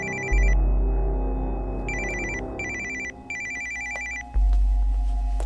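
A telephone rings in bursts of electronic trilling, three or four short rings in a row, clear and close, with a low rumble underneath at the start and end.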